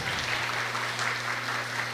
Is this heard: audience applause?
yes